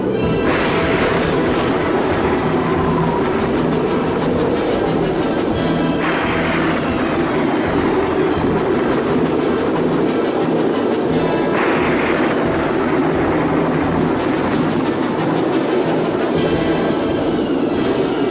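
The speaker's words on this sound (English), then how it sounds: "The combination of the heat and wind spawned a mini tornado, accompanied by severe lightning and thunderstorms." Storm sound effect of hurricane wind and tornado roar with rumbling thunder, a loud continuous howling rush that swells twice into heavier gusts and booms, with no voices.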